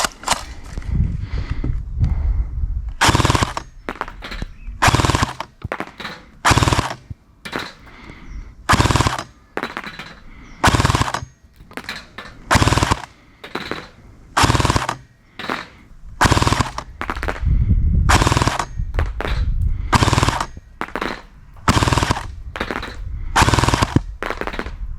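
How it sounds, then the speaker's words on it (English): A 3DG G36 airsoft rifle with a Hellfire hop-up on the muzzle fires repeated short bursts, loud and close, each burst a rapid string of shots with brief gaps between them. "I'm just going to shoot some short bursts."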